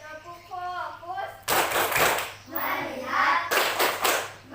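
Children in an Indonesian classroom clap a short rhythmic chant pattern, with two bursts of quick, close hand claps between stretches of young voices chanting together.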